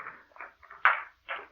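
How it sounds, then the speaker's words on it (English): A key is inserted into a door lock as a radio drama effect, several short close metallic scrapes and clicks in quick succession, heard alone. "Mechanically, I took the key from my pocket, inserted it in the lock,"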